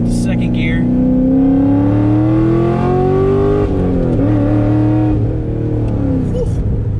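A cammed C6 Corvette V8 engine revs hard after a downshift to second gear and climbs in pitch, then drops and settles, loud and close, with a faint tire squeal near the end.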